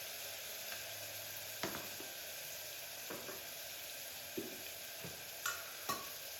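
Spices such as cinnamon and cloves roast with tomato in oil for a saagu curry, a faint steady sizzle broken by several sharp scrapes and taps of a spoon against the pan at irregular intervals.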